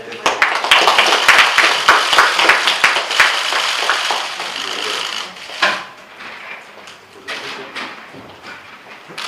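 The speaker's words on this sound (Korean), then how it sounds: "박수 한번 칠까요?" An audience applauds at a Korean political party press event introducing its first recruited member. The clapping is dense and brisk for about five seconds, then thins to scattered claps and quieter crowd noise.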